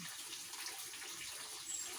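Water poured over a goat named Coco during a bath, a faint, steady splashing hiss of running water that continues without a break and with no voices.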